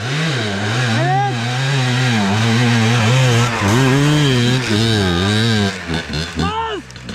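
An enduro dirt bike revved hard at full throttle at a Gölcük hard enduro event: a loud, buzzing two-stroke-like engine note that swoops up and down in repeated rev surges, close by, then sputters in quick blips at the end.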